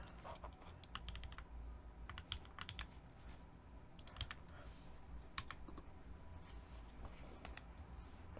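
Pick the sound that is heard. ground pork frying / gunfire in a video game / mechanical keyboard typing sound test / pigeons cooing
mechanical keyboard typing sound test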